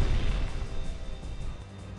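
A bunker buster bomb strikes a 7 m thick concrete wall and explodes, a loud booming blast with a deep rumble that fades over two seconds.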